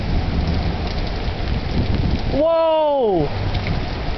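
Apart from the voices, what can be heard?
thunderstorm with heavy rain and close thunder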